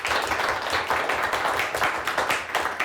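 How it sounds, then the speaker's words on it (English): An audience at a high school quiz show claps for a competing team, a close, dense round of applause with individual claps audible, steady from start to finish. "Let's give them a nice round of applause"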